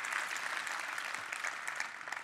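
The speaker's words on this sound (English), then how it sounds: "can we give a round of applause to teachers" Dense applause from a large conference audience for teachers, a continuous even wash of many hands clapping, fairly faint and distant, with no voices over it.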